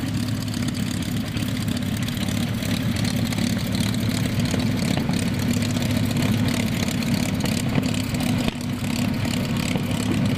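A P-51 Mustang's piston engine drones steadily and loudly at a World War II weekend airshow, a continuous low throbbing rumble that holds through without a break.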